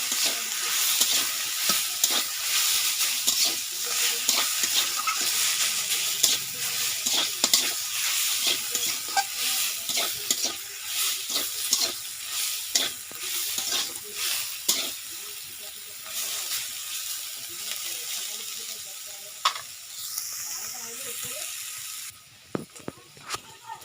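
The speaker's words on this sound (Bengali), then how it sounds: "সরষের বাটাটা দিয়ে দিচ্ছি। ভালো করে নাড়িয়ে নিচ্ছি।" Mustard paste being stirred in a hot frying pan while cooking a village-style leafy greens dish: continuous close sizzling hiss with frequent scraping, clicking utensil strokes throughout, no speech.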